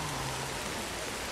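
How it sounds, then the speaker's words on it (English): Steady rain falling in the video game Ancestors: The Humankind Odyssey, an even hiss of heavy rainfall, continuous and uniform, with no talk. "It's a little bit like The Notebook out here in the rain."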